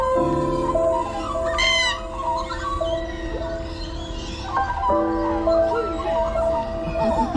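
A bird calls at Taronga Zoo in Sydney with rising, whistled cries over a busy bed of ambient zoo noise and other faint animal sounds.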